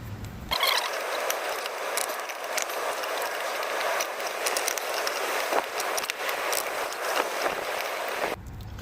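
A ratchet wrench cranks steadily on a trailer's compression fitting, giving a dense, continuous run of close, sharp clicks for about eight seconds before it stops abruptly.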